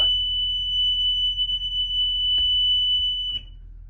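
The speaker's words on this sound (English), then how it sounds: "and the buzzer goes off." A school bus emergency exit buzzer sounds a steady, piercing electronic tone for several seconds, close and loud over a low engine idle, then cuts off abruptly.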